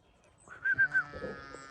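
A ram gives a short, wavering bleat of three quick pulses close by, alone in an otherwise quiet setting.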